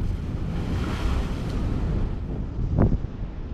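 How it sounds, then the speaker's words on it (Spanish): Ocean waves surge and break against large rocks on a beach, a continuous broad wash of surf with wind noise, one sharper splash standing out near the end. "Guarda con la ola."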